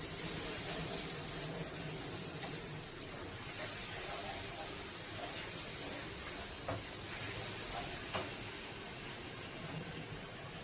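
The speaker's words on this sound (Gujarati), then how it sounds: "ગ્રીન ચીલી સોસ નાખશું. હલાવી નાખશું." Hakka-style noodles frying in a pan as green chili sauce is stirred in, giving a steady dense sizzle with light scraping of the stirring throughout.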